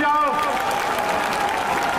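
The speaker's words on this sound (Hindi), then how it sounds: "जोरदार ताली बजाओ" Applause from a crowd at a political rally, a dense clapping wash that runs the whole time with a voice speaking over it.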